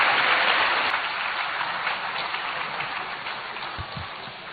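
Audience applause welcoming Ghana's President John Dramani Mahama at a town hall meeting, a steady, dense clapping from a large crowd that fades slightly as it goes on, with no talk over it.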